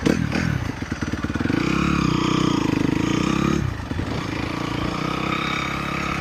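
A 2017 Honda CRF250R dirt bike engine buzzes steadily close by while being ridden, its drone holding level before dropping in pitch as the throttle eases, with no voices.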